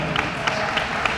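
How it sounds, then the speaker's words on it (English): An audience applauds a colonel in a meeting room, a brief, steady wash of many hands clapping with a few sharper claps poking through. "Let's give him a round of applause."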